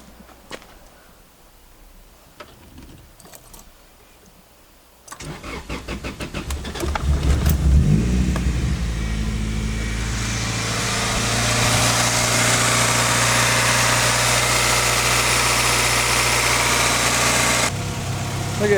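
A Honda Integra engine, just fitted with a new intake manifold, cranks after a few quiet clicks, catches and fires, then settles into a steady, loud idle with a broad rushing hum close by.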